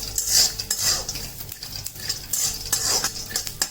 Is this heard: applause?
no